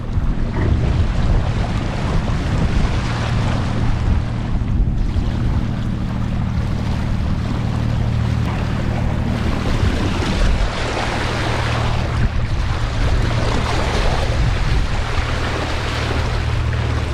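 Steady wind and ocean waves rush continuously around a MacGregor 26 sailboat under sail on the open sea in the Florida Keys, loud and close with constant wind buffeting on the microphone throughout.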